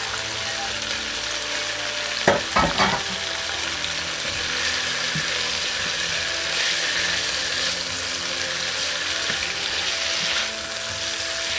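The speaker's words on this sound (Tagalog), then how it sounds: "Lagyan na natin ang pork." Pork is added to a hot pan with sautéed ingredients for an udon and mung bean dish and fries in a sustained loud sizzle, with a few clattering stirring knocks near the start, no talking.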